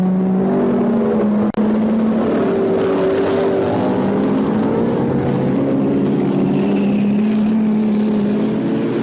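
Racing cars at the 1957 British Grand Prix roar past as a loud, continuous engine drone with shifting pitch, and one sharp click or bump about a second and a half in.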